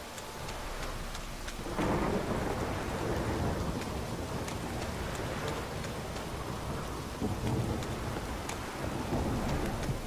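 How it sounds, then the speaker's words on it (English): Heavy rain hisses steadily in a Witcher 3 thunderstorm, with a loud burst of thunder breaking in early and rumbling on beneath the downpour. "This downpour's a bastard, it is."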